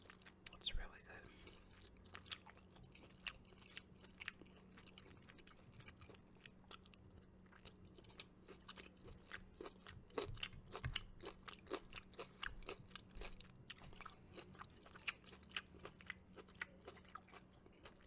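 Close, quiet ASMR chewing of broccoli and tofu, with soft repeated bites and crunches at an irregular rhythm over a low steady hum, with occasional faint whispering.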